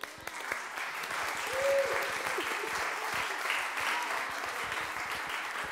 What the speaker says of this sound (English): let's give you a clap.